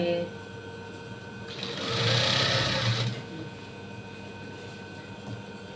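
A sewing machine stitches a short run on a bolster pillowcase, whirring up loudly for about a second and a half near the middle, with a soft background hum before and after and no clear talking.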